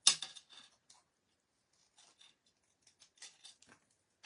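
Scissors snip through craft netting for a handmade card, a few quiet, scattered cuts and rustles with long silent gaps between them.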